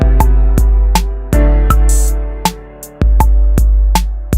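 A drum-machine beat programmed in BandLab: booming bass kicks and sharp snare and clap hits in a steady, loud, repeating pattern, with a brief bright crash in the middle and a short drop before the loop restarts.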